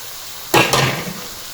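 Chopped onion hits frying chicken keema in a kadai, setting off two quick loud bursts of sizzle that fade into a softer hiss.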